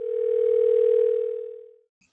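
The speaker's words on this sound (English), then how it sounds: "Yeah, let's phone Glenn" A steady telephone dial tone holding for under two seconds before cutting off, clear and alone with no talk.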